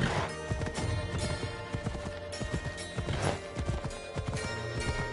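Horse hooves clip-clop in a steady, close, rhythmic beat, the hollow knocks repeating continuously without pause.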